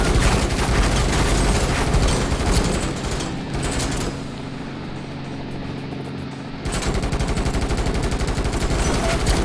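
Sustained automatic gunfire from a shooter video game as a full magazine is emptied into a tough enemy, loud and dense with rapid bursts, a brief lull midway, then resuming at full intensity with no talking.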